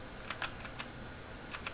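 Keys clack on a mechanical keyboard fitted with Cherry Clear switches, which have a slight bump and no click. About six to eight separate keystrokes come in short, uneven bursts over a quiet background hiss.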